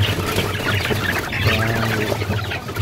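Chickens and growing chicks clucking and peeping in a coop, a dense continuous chorus of overlapping calls close by, without talk.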